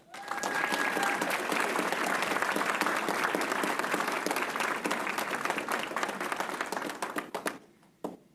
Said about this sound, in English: would you please stand so that we can give you a round of applause?